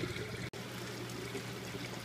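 Water poured steadily into a tilapia container, a continuous close trickling stream with one brief dropout near the start, no talking.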